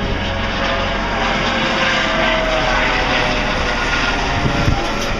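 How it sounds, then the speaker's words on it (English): Loud, constant roar of an aircraft engine with rotor-like throbbing, close by and steady throughout, with no voices. "That's our helicopter pulling up."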